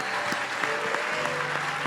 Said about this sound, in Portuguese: E nós vamos aplaudir o Senhor nessa manhã